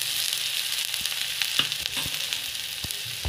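Oil sizzles steadily around a ragi and drumstick-leaf adai cooking on a pan, a continuous close hiss with a few faint clicks and pops, no voices.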